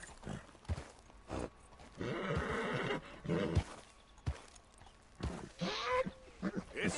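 A horse whinnies and snorts among clopping hooves and other game sounds in Red Dead Redemption 2, with bursts of movement around it.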